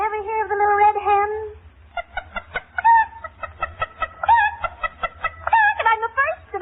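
A radio barn-dance performer imitates a hen, a run of harmonic cackles and squawks followed by rapid rhythmic clucks, close and loud, with no other voices.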